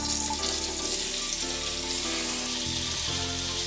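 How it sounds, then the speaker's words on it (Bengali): Boiled jackfruit pieces frying in oil in a wok, a loud, continuous sizzle with a steady hiss throughout and a slight shift in tone near the end. "সেদ্ধ করে রাখা এঁচোড়গুলো দিয়ে এবার ভেজে নেব।"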